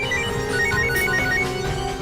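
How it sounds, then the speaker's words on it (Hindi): A mobile phone ringtone plays for an incoming call in an indoor TV drama scene, a steady melodic electronic tune looping over a continuous bed of background music, fairly loud and without talk. "नहीं, विप्लव का फोन है।"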